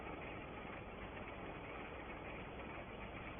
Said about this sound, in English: we've got a tractor at each end of the field today